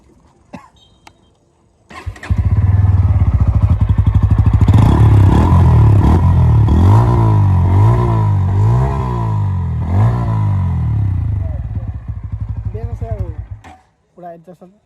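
A Bajaj Pulsar N160 motorcycle, air and oil cooled, starts up close by and is revved repeatedly in rising and falling sweeps, loud and near, before the engine settles and cuts off.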